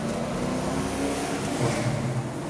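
A 1993 Ford Mustang engine with long-tube headers revving and accelerating in first gear, a deep steady exhaust rumble that rises slightly toward the end.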